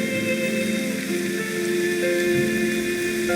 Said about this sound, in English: It is still raining outside.